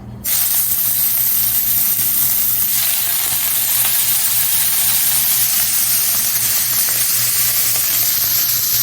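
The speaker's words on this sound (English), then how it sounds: "I just like to fry up the saltfish." Saltfish frying in a very hot pot gives a loud, steady sizzle that fills the whole stretch without a break, and nobody speaks over it.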